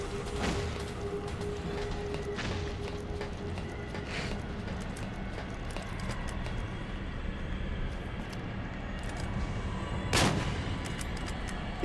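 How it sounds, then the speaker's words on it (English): A grenade explosion in Metal Gear Solid 4: faint, distant battlefield noise with scattered sharp cracks and one stronger burst near the end. "That's a grenade!"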